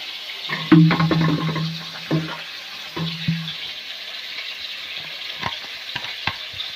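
Mutton curry sizzles and fries in a pan as water is poured in, a loud burst of bubbling hiss near the start that settles into steady, softer frying with a few clinks of stirring.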